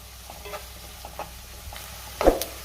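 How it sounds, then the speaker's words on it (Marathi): Chopped onion sautéing in a pan for a dry potato curry, a soft, low sizzle with occasional scrapes of a spatula and one sharper stir near the end. "कांदा आपण 2 मिनिटं चांगला परतून घेऊया"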